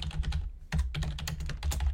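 Someone types on a computer keyboard, a close, steady patter of rapid key clicks with a brief pause partway through, and no talking.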